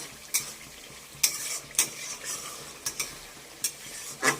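Potato and paneer pieces being stirred into spice masala frying in oil for a cauliflower paneer curry, with a steady sizzle and several sharp scraping clinks of a spoon against the pan, close and fairly loud.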